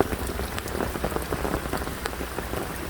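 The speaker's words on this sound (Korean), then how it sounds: "오랜만에 이렇게 비가 많이 오는 걸 이렇게 경험하게 됩니다" Heavy rain pours down in a mountain area, a dense, continuous patter of drops hitting surfaces close by, loud and unbroken with no voices.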